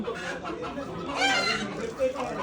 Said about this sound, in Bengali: মুরগির খামারে সুন্দর মুরগিরা ডাকতেছে, সুন্দর সুন্দর দেশি মোরগ আছে